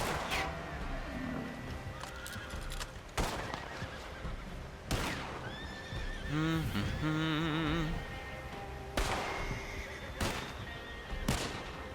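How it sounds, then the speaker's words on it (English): A horse neighs in the Red Dead western video game, a wavering whinny in the middle of a busy scene with loud gunshots cracking repeatedly before and after it, plus dense game noise throughout. "Oh, watch out for that horse."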